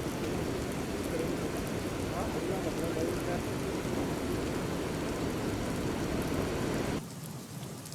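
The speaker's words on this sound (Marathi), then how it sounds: "रात्रीपासून नाशिक शहरासह जिल्ह्यात अनेक ठिकाणी संततधार पाऊस पडतोय" Continuous heavy rain in Nashik, a dense steady hiss and patter of downpour that holds for several seconds and then abruptly drops to a softer wash.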